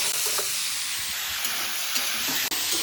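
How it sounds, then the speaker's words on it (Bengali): Oil heating in a wok sizzles and hisses continuously, close and fairly loud, with faint stirring scrapes and no speech. "আর এই যে আমি কড়াইতে তেল গরম হতে দিয়ে দিয়েছি"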